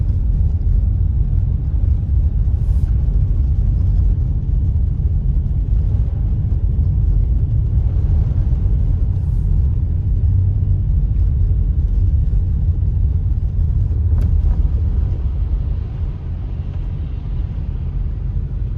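A turbocharged Subaru driving through heavy snowfall, heard from inside as a steady, loud low engine and road rumble that continues unbroken, easing slightly near the end, with no talking.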